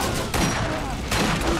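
Sniper rifle fire in the Borderlands shooter game booms out in two heavy, close blasts with rumbling tails, set against a dense background of in-game noise.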